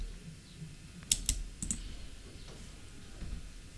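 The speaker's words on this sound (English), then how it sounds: "so type a simple concept here" Fingers type on a computer keyboard in a few short bursts of crisp clicks, close and fairly quiet, with pauses between them and no talking.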